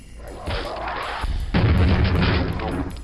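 Spawn monster dying and exploding in the video game Quake, heard as a loud, dense explosive blast with a second heavier burst of rumbling noise, sustained for several seconds.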